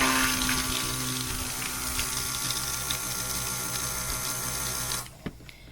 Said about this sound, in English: So I'm going to stick blend for a sec.